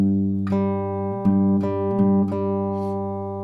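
An acoustic guitar plays the G section of a song, plucked notes ringing over a sustained open G and a fretted bass note, a few picked attacks in steady rhythm with no talking.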